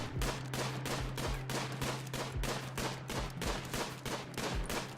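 Colonists trade gunfire in the video game RimWorld, a steady rhythmic string of sharp shots repeating about three times a second, fairly quiet and even throughout with a low hum beneath.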